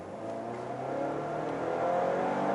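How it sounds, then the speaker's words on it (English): Range Rover Evoque R-Dynamic in dynamic mode accelerating at full throttle from 30 to 70 km/h in Den Bosch, the Netherlands: a steady engine drone rising gradually in pitch and loudness, heard from inside the car. "We will do an acceleration from 30 to 70."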